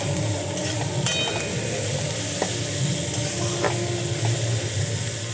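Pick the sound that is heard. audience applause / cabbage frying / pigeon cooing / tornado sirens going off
cabbage frying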